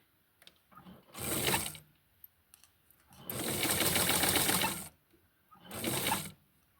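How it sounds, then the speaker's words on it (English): A sewing machine stitches the neck of a doll dress in three separate runs, a short burst, a longer steady run and another short burst, with quiet pauses between and no talking. "So I am going to sew the neck."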